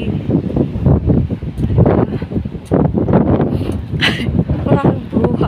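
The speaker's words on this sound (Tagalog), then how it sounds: "High tide siya na mahangin." Strong wind batters the microphone at Arbeyal Beach in Gijón, Asturias, during a rough high-tide sea, gusting loudly and unevenly with crashing surf beneath and a voice faintly present.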